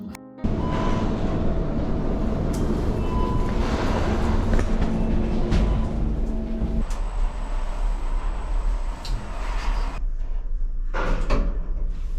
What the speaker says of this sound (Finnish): soon we are in the capital of Finland in Helsinki railway station or metro station